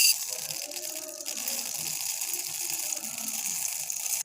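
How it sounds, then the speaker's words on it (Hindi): Dry chana dal is poured into a bowl, a continuous soft rattling hiss of small hard grains spilling steadily for about four seconds, then stopping abruptly. "मैंने दाल चना ली है। अभी हम इसको एक बाउल में डालेंगे।"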